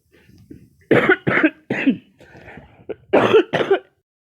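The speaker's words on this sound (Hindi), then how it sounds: "सॉरी वो थोड़ा खांसी आ गया था" A series of sharp, close coughs, two quick bursts followed by another, then a pause and two more harsh coughs.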